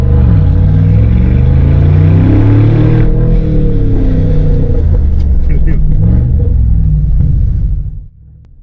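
Mercedes G63 4x4² conversion with a 580-horsepower engine revving while driving, heard through an open window as a deep, loud rumble rising and falling with throttle before cutting off near the end; a voice is present.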